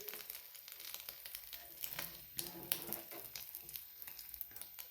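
An omelette sizzling in a pan while it is turned and flipped over, a faint crackling fry with light scraping and rustling of the turner, fairly quiet and without talk.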